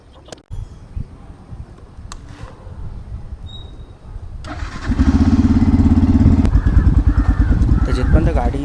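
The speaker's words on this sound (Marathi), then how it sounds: "तर जिथपर्यंत गाडीचं इंजिन फ्लश होतं आहे, जिथपर्यंत ते रनिंग आहे" A motorcycle engine runs during an engine flush after flood damage, a rough low rumble that surges louder and steadier about halfway through, close by, with a voice speaking briefly early on.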